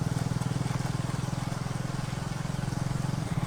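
Motorcycle engine in a Telugu film scene, a steady low rhythmic throb held close and even for a few seconds, with no clear pass-by swell.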